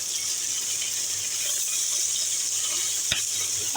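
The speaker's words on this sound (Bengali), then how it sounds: "এপাশে যে মাছ ভাজা করছি" Steady hiss and crackle of bata and other fish frying in hot oil, close up and continuous, with one brief sharp pop near the end.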